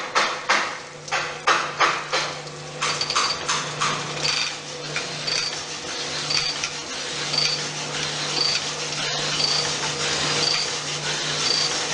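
An out-of-round engine cylinder being honed with a 220 grit stone: a loud, steady scraping rasp with an uneven rhythmic beat, opening with a run of sharp knocking strokes, then continuing as a constant grinding with regular faint high squeaks.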